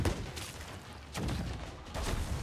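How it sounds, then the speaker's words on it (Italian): Gunfire in the pirate video game Sea of Thieves during a raid on the Shark Fin camp: three loud, booming blasts spaced about a second apart over a constant rumbling background. "Dove state sparando?"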